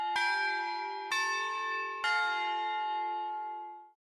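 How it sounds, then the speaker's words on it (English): Three evenly spaced bell strikes sound in the video game The Sun Shines Over Us, each clear metallic tone ringing on and layering before fading to silence, with no voices. "The school bell rings."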